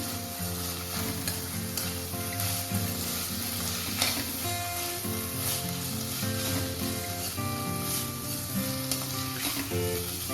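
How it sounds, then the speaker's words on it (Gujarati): Spice masala being stirred into papdi beans in a pan for Surti undhiyu, with a steady close sizzle of frying running throughout and repeated soft scraping strokes of a spoon, no voices. "આ રીતે આપણે મસાલો બરાબર પાપડીમાં મિક્સ કરી લઈશું"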